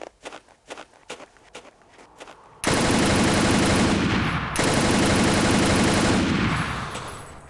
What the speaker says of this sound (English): I love the tracer rounds with this gun.